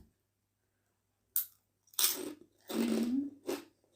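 Crispy pork cracklings eaten with papaya salad and rice noodles, a few loud close crunches in separate bites after near silence, the last bursts longer and with a wet chewing edge.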